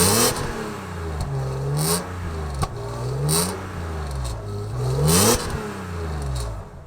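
A BMW E46 M3 with headers and a straight-through exhaust revving close by, its raspy engine note climbing and falling in several repeated blips, loud and alone without speech.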